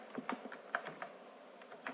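Quick bursts of keystrokes on a computer keyboard, typing text during a CorelDRAW session, irregular clicks close to the mic over a quiet background.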